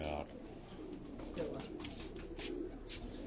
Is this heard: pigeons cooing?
yes